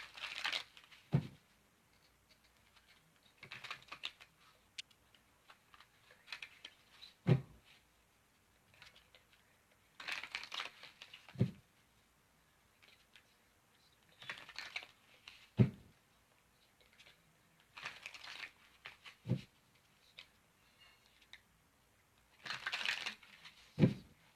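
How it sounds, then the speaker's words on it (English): Soft papery riffling and slaps of tarot cards being shuffled, repeating in short bursts every few seconds, close and quiet with pauses between. "bear with me as I shuffle up the cards"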